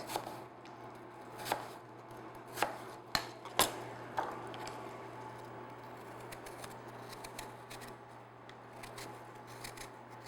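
Knife cutting peeled apples into quarter-inch slices on a board, several quiet crisp clicks and snaps spaced irregularly, then fading to a soft, faint hiss.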